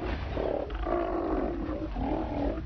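Steller sea lions in southeast Alaska give deep, continuous roaring bellows, several overlapping calls rising and falling over a steady low rumble, fairly close and loud with no talking.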